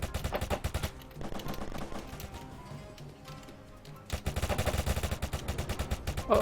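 Sniper rifle fire in a video game. Rapid, loud, close shots come in bursts, quieter in the middle and then a fresh volley near the end.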